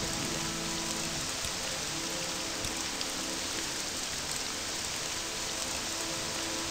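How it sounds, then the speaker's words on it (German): Steady rain in the video game Morrowind, a dense continuous hiss of falling drops on surfaces, even and unbroken throughout with no talk. "Och, ich hab gar keinen Bock auf Regen."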